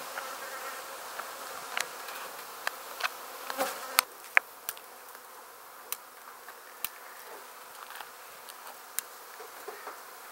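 Honey bees buzz in a steady, faint drone during a hive removal, broken by scattered sharp clicks and taps close by.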